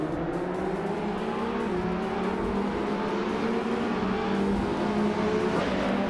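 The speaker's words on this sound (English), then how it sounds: "the race is underway at Interlagos and Wolf's Light is starting on pole in a 2016 Mini Cooper Cup" 2016 Mini Cooper Cup race cars at Interlagos in a racing video game roar continuously. The engines drone loudly and steadily while their pitch climbs under acceleration, with no voices.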